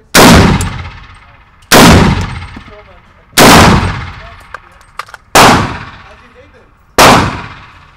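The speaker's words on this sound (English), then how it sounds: "when it's shooting supersonics, it fires perfectly" Five loud, close gunshots from a 300 Blackout AR pistol firing supersonic rounds outdoors, evenly spaced about a second and a half apart, each with a sharp crack and a long echoing tail.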